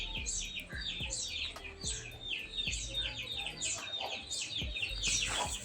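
A native Kodi Nemali breed rooster weighing around 3 to 3.5 kg clucks repeatedly outdoors, mixed with chirps and calls from other birds in a busy farmyard. No one speaks.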